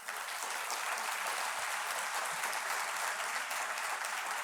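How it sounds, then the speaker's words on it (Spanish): Dense, steady audience applause at a civic gathering, the 14th Encuentro Cibic, filling the whole stretch at an even, loud level with no voices over it. "y pido un enorme aplauso para él,"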